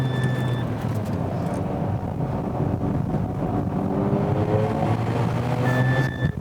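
A Honda Integra Type R racing at SUGO circuit, its engine droning steadily under heavy wind buffeting on the microphone, with a brief rising engine whine near the end, loud and close throughout.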